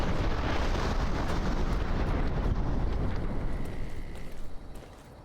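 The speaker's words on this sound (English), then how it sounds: "Is the explosion too big?" Big in-game explosion in Fallout: New Vegas, a loud, roaring, rumbling blast that fills the whole moment and slowly tails off toward the end.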